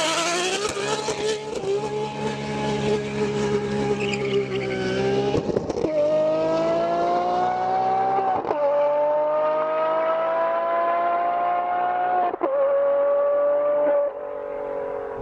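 Ferrari 599 GTB V12 fitted with stainless steel headers, roaring loudly through sustained high revs with rising pitch sweeps and brief dips between gear changes, close and continuous with no talk.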